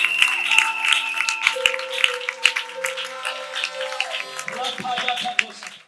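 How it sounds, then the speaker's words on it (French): A church congregation applauding during an apostle's sermon, with brisk clapping and sharp hand claps mixed with sustained musical tones, fading out toward the end. "Acclame très fort pour la place."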